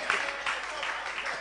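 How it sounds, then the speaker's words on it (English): A church congregation at a Flow and Overflow 2018 service claps for a singer coming up to minister, a steady wash of applause with a voice speaking over it. "Give him a good clap as he come to minister."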